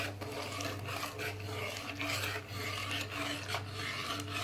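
Nachni (finger millet) papad dough is stirred in a pot on the stove, giving a soft, repeated scraping rub at close range over a low steady hum, with no talking.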